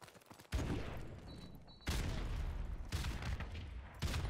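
Grenade explosions in Call of Duty: Modern Warfare Remastered, with sudden loud blasts breaking in roughly every one to two seconds, each followed by a rumbling roar that stays loud and close, with no talk over it.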